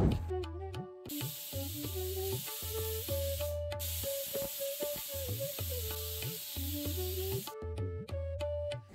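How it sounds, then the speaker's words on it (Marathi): A pressure cooker holding lobia (black-eyed peas) in water, salt, turmeric and oil whistles on a gas stove, letting out a loud, steady steam hiss that lasts several seconds, with tonal sounds running underneath. "गॅसवरती ठेवून 2 शिट्टी मारून घेऊ।"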